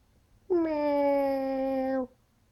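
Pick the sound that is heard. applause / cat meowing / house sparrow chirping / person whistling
cat meowing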